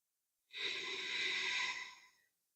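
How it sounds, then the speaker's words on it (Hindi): A single slow, deep breath during a relaxation breathing exercise for stress: one long, soft, airy exhale that swells, holds steady and fades, close and quiet with nothing else around it. "उसके बाद आप धीरे-धीरे लंबी साँस लेना शुरू करिए।"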